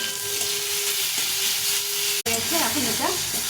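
Pumpkin mashed with turmeric and salt fries in a pan, a continuous loud sizzle with a brief cut midway, after which a voice talks faintly over the hiss.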